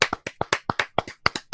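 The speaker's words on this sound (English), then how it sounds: "Can we real quick just give a clap for Ted Danson?" Crisp, close hand claps in a fairly regular rhythm, about a dozen distinct slaps, from a small group clapping for actor Ted Danson during a podcast, with no talking over them.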